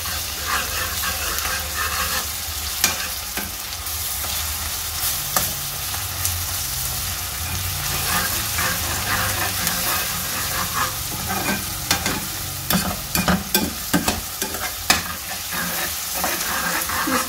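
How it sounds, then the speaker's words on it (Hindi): Crushed garlic, about a tablespoon, fries lightly in a pan for a cabbage and egg sabzi, giving a steady close sizzle broken by scraping stirs, with no talking. "इसको भी हल्का ही फ्राई करना, कलर नहीं चेंज करना लहसुन को"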